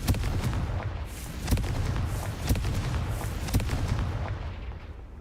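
Repeated fiery spell blasts from the Confringo curse in Hogwarts Legacy, a string of sharp booming bursts roughly every second over a dense rumbling low-end bed, loud and close.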